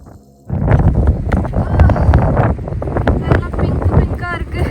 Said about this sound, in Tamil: ஆனால் பயங்கரமாக காற்று தள்ளுது.